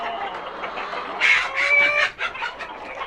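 Chickens and roosters on a farm cluck in a busy, close flock, with a louder burst of overlapping squawks and clucks in the middle before settling back to steady chatter.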